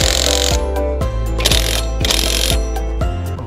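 An impact wrench drives a bolt with a fast rattling hammer of blows, in several bursts separated by short pauses. Each burst is loud and close, and a harsh high whine rises in the middle bursts.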